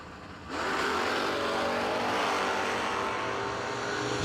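Dodge Challenger and Pontiac Firebird launching off the line at a no-delay drag race, engines erupting into a sustained, loud, roaring blast after a brief quieter start.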